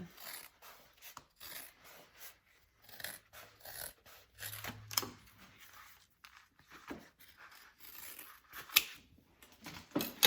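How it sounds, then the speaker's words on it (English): Scissors snip and rasp through the fabric seam allowance of a sewn duffel bag, a series of close, irregular cutting strokes with short pauses between them. "we can trim this seam allowance down on this side a little bit"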